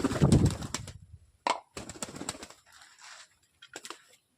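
Pigeons in a pigeon house give a few soft coos amid scattered flutters, plops and rustles, close and intermittent.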